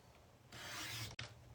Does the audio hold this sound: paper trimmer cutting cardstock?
yes